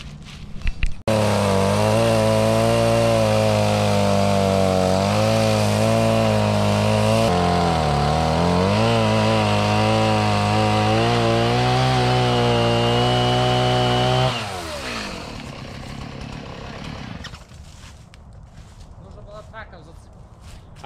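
A chainsaw cutting into a tree being felled runs loud and close, its engine note rising and dipping under load, then it cuts off and a quieter idle and rustling follow.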